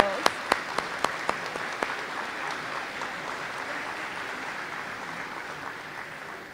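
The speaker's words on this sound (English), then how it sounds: "Yeah, clap for these girls." Audience applause for a girls' basketball team at a high school awards evening, a crowd clapping steadily with a few sharp individual claps standing out at the start, the clapping holding at a moderate level throughout.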